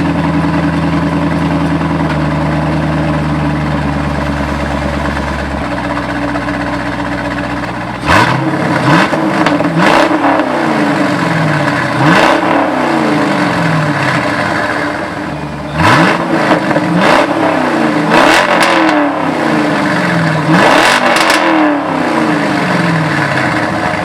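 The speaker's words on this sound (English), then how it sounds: "So now we're gonna start it up while there's no mufflers on the car, so I can finally hear what it sounds like without any mufflers" A C5 Corvette with its mufflers removed starts up and settles into a loud, raw idle, then revs repeatedly in sharp, rising blips with short gaps between them, close and unmuffled.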